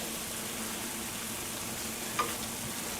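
TVP seasoned with taco spices cooks down in a pan, giving a steady, soft sizzle and fry hiss throughout with one brief clink partway through.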